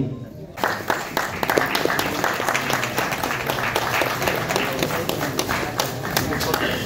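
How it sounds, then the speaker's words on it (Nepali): Audience at a book launch for Prahlad Dahal's collection Anubhutiko Sangalo breaks into dense, sustained clapping after a brief quiet start, loud and continuous, filling the hall. "त्यसैले गर्दा जोरदार ताली लगाइदिनु हुनुको लागि हजुरहरूलाई हार्दिक अनुरोध गर्दछु"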